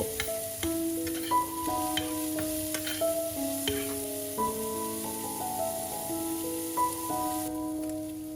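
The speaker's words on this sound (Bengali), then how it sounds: "এবার দিয়ে দিলাম কুচুনো পেঁয়াজ একটু পেঁয়াজটা ভাজা ভাজা হলে তার মধ্যে কাঁচা লঙ্কা কুচিটাও দিয়ে দেব" Chopped onion and green chili fry in hot oil with a continuous sizzle and occasional stirring, heard close under a tuneful background melody, with no speech.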